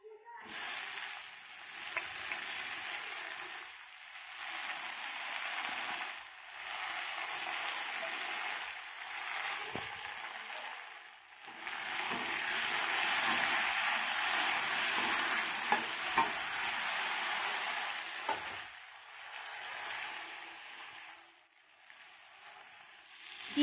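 Potatoes with chopped tomato fry and are stirred in a pan, giving a steady sizzle broken by repeated scraping stirs. Close and continuous, with no talking.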